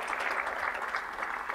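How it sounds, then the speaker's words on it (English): Conference audience applauding, a steady wash of many hands clapping at moderate distance with no break. "Can we clap for our profession?"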